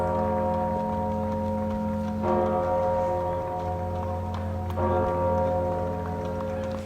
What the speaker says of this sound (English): a welcome sound as the giant bell sounded over Paris